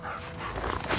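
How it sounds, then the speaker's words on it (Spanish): Dogs barking in the video game The Last of Us Part II, a brief burst of barks and yips set against a dense game soundscape, fairly faint and distant-sounding. "Escucho a perros."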